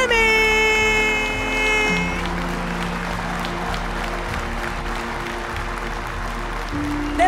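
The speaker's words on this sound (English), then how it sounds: "Let's keep the applause going" Applause and crowd noise fill the hall at the Miss South Africa 2021 pageant finale, loud and sustained, with music and tones sounding over it at the start before settling into a steady roar of clapping.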